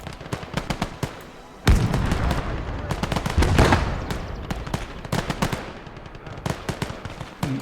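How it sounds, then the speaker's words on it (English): Machine gun fire in a WWII video game battle, rapid bursts of sharp loud shots in irregular clusters, with heavier booms and dense rattling volleys, mixed with faint voices. "We got a machine gun."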